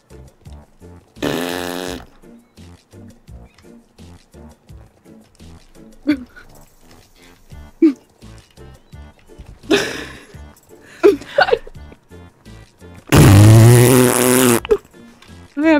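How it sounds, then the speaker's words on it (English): A fart cuts through in a short loud burst near the end, with a couple of smaller bursts earlier, all over a steady rhythmic music bed and no talking. "I farted."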